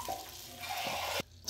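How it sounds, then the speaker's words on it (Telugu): Water is poured from a vessel into a pan of roasted semolina for a jaggery payasam, making a close, continuous splashing pour for just over a second before it abruptly stops. "తర్వాత ఒక చెంబడు వాటర్ తీసుకొని పోసుకోండి."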